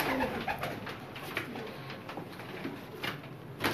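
Pigeons in a Lahore loft coo softly and repeatedly, several birds overlapping at a quiet level with light rustling around them.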